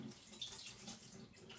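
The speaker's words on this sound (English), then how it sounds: "I'm gonna drain the water out" Water drains out of a pot of cooked pasta, a faint, steady wash of running water like a faucet or sink, continuous and low in level, with no voices over it.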